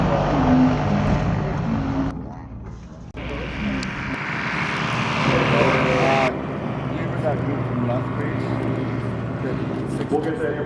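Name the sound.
ultralight aircraft landing at AirVenture 2024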